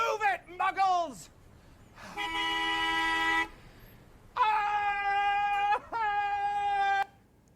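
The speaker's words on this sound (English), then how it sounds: "We have a wizard stuck in traffic, furiously honking on a broomstick, yelling" A wizard on a broomstick honks furiously while stuck in traffic in an AI-generated scene, giving several long, loud, steady horn blasts after some brief yelling up front.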